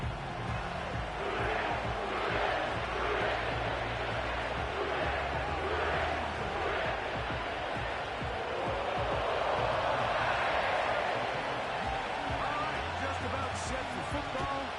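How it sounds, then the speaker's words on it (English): Stadium crowd noise from an EA Sports football video game, Ravens versus Bengals, roars continuously and loud throughout as dense broadband cheering, with faint low tones beneath. "The crowd is definitely ready."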